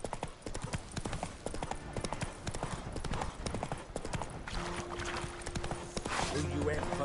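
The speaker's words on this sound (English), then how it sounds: "Run, Roach" Horse hooves clip-clop at a fast gallop in The Witcher 3: Wild Hunt, a rapid steady drumming up close under game music and brief spoken lines.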